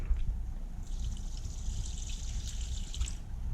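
Simple Green cleaning solution trickles from a bottle into a container, a soft, thin liquid pour lasting a few seconds over a low background rumble, fairly quiet and close.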